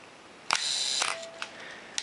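A Pentax K film SLR fires at a half-second shutter speed: a sharp mirror-up clack, a brief mechanical whir, then the closing snap about half a second later, followed by small settling clicks.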